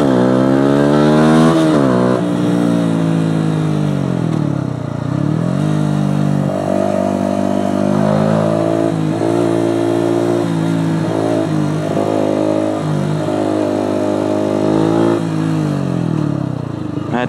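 A Yamaha YZF 125 four-stroke sport motorcycle revs loudly and continuously while being ridden, its engine pitch rising and falling through repeated throttle swells and gear changes, close and dominant throughout.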